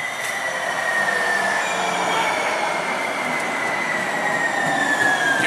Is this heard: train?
yes